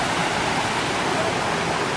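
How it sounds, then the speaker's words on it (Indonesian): A small river stream near a bamboo forest and the Curug Cinta waterfall at Sentul, Bogor, rushing in a steady, close, broadband wash of flowing water with no pauses. "Di sini ada sungai juga, aliran sungai kecil ya."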